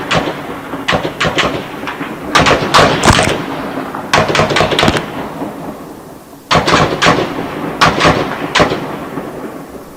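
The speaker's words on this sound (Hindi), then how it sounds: "घर के बाहर गोलीबारी साफ सुनाई दे रही है" Gunfire outside a house in Ukraine: repeated clusters of sharp, loud cracks and booms in bursts, rumbling between volleys, with no talk.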